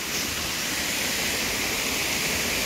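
Waterfall at Phantom Falls in Lorne, Australia, a steady rushing roar of falling water that holds an even, dense hiss throughout with no voices.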